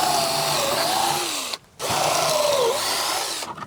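A power drill bores pocket holes into short wooden boards in two whining bursts with a short pause between, each one rising and falling in pitch, heard close and outdoors.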